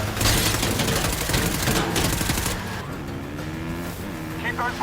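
A car chase from an action film, with engines and traffic roaring under rapid bursts of gunfire, loud and dense for the first half before easing into a steadier, quieter vehicle drone.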